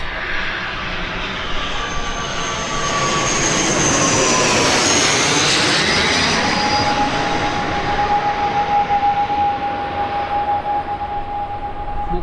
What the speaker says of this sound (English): Here comes the ATR though